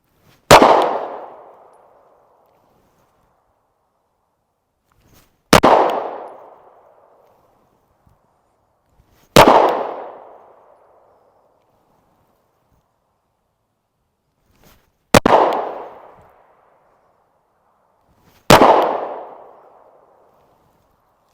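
Five single pistol shots during presentation drills, sharp loud cracks spaced several seconds apart with short decaying echoes and quiet gaps between.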